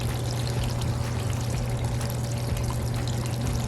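Water pours steadily through a gold sluice set on about a three-inch drop at an Arizona hard rock site, a continuous close rushing and trickling with no pauses.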